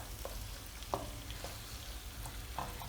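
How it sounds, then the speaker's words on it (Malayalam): Thai chicken fried rice mixture being stirred in hot oil, with soft scraping strokes and a few sharper utensil knocks over a steady low sizzle, close and fairly quiet. "ഞാനിത് നല്ലോണം ഒന്ന് മിക്സ് ചെയ്ത് കൊടുക്കുകയാണ്."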